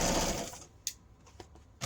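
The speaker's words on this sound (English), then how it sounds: "and then I'm going to keep sewing" A sewing machine stitches ribbon in a steady whirring run that stops, followed by a few sharp clicks and knocks as the needle and hand wheel are handled, then a brief restart.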